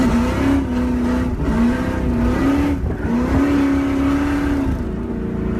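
A car doing donuts and drifting out produces a loud, continuous engine roar whose revs waver up and down throughout, close and without any voices.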